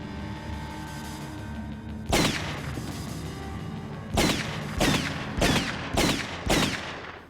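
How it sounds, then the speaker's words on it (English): Gunshots from the Terminator film: one sharp blast, then four more in quick succession after a pause, loud and close over a low, murky background. "the man powers his direction inside and shoots her with the gun he obtained"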